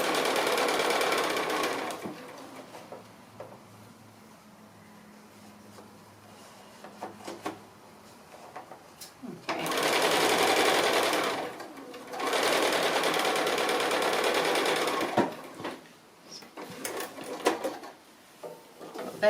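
A sewing machine stitches a fabric seam in steady, close-up runs: a short burst at the start, then two longer stretches later, separated by quiet pauses with faint handling noises.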